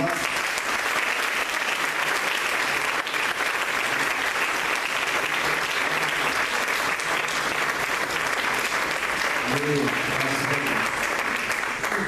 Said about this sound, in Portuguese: Vamos aplaudir o Senhor pela visão.